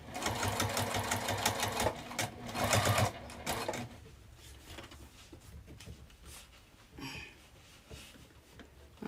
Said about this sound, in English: we're going to stitch right along that edge